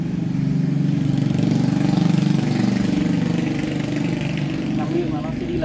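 A drill bit that drills and taps at once cuts a thread in the bar mount of a chainsaw. It gives a loud, steady motor drone throughout while someone talks over it.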